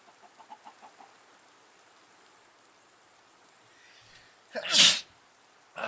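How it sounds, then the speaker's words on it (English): A single sharp sneeze bursts out near the end, loud and close after a stretch of faint background with a few soft ticks, during a gaming stream. "Gesundheit."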